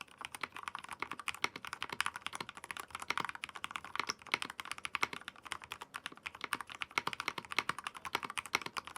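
Typing on a magnetic keyboard, a dense, steady run of close, crisp keystroke clicks and clacks at a brisk pace, fairly quiet and unaccompanied by any talking.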